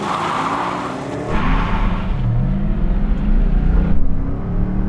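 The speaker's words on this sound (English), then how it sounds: "It's the standing quarter mile drag race." A Ford Mustang launches hard off the line in a standing quarter-mile drag race, its engine roar jumping up loud and close and holding a steady, rising drone, with a hint of tire squeal.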